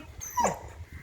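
A dog gives one short, high whimpering cry as a visitor leaves, close and clear over quiet room noise.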